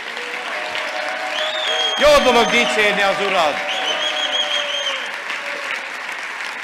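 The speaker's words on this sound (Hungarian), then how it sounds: "adjunk az Úrnak egy vidám és egy nagyterű tapsot" Church congregation applauding during a sermon, a loud burst of clapping swelling for about a second and a half and then easing, under a voice speaking or singing over sustained music.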